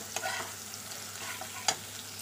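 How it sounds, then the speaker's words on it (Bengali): Spice masala being sautéed in a pan, giving a low, steady sizzle with a couple of sharp spatula scrapes against the metal, close and without voices. "মশলাটা দিয়েছি, এবার ভালোভাবে কষিয়ে নেব।"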